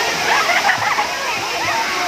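Water from Sai Yok Noi waterfall in Kanchanaburi, Thailand rushes and splashes in a steady close roar, with someone talking over it.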